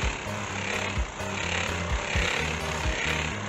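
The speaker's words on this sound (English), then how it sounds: "We opted to use a pneumatic board sander with 40 grit sandpaper." A pneumatic board sander with coarse 40-grit sandpaper works a boat hull, a steady, loud buzzing grind with a pulsing rhythm that holds throughout.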